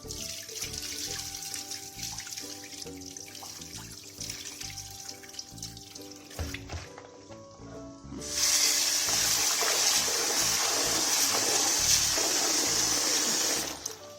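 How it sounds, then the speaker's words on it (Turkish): Tap water runs over soaked dried beans as they are washed and drained in a kitchen sink, a steady close splashing that turns into a louder, fuller gush of running water for the last several seconds. "Böyle yıkayacağım bir süzeceğim."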